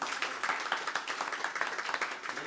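A group of people clapping together at a casual breakfast chat, a dense, steady patter of handclaps lasting a few seconds with no voices over it.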